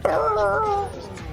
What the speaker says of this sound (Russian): Это у меня кот.